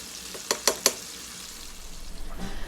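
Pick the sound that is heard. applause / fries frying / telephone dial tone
fries frying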